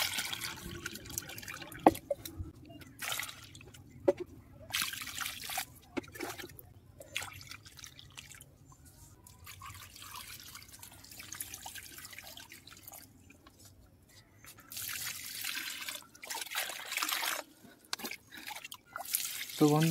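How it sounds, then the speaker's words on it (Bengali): Water is poured into potted fruit and flower plants, with bursts of splashing and trickling broken by quieter gaps and scattered drips, close by and moderately loud, repeating as each pot is filled. "এবার আমি সবকটা গাছের মধ্যেই জল দিয়ে দেবো টব ভর্তি করে"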